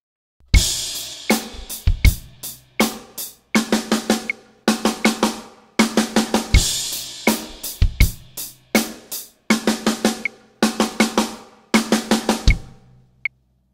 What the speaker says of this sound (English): a really fun 32nd note fill